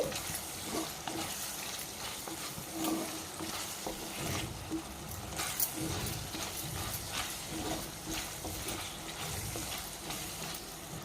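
A spoon stirs tamarind pulp into a bottle gourd and sesame curry in a pan, giving steady scraping and bubbling with a gentle sizzle throughout, close and continuous.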